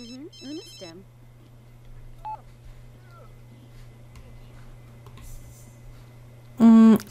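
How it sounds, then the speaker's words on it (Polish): A phone rings in The Sims 3 with the After Dark expansion. A loud electronic ringtone bursts in near the end, following quieter game chirps and a steady low hum. "A potem to możesz sobie najnormalniej w świecie odebrać telefon."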